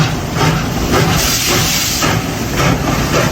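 Steady loud hiss of steam escaping from a steam locomotive at a railway workshops open day, broad and continuous with slight surges, low engine rumble beneath, no talking.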